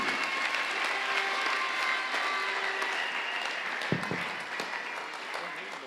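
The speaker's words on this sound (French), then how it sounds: "sous les acclamations des enfants de Dieu" Crowd at an international conference inauguration claps and cheers as guests are presented, a continuous wash of applause with some voices and a loud thump near the end.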